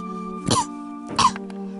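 Two sharp, harsh coughs about half a second apart, close and loud, with a steady tonal hum underneath.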